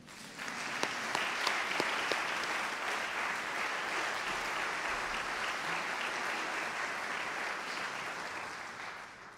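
Steady applause from a crowd filling the whole stretch, dense and even, with a few sharper claps standing out near the start.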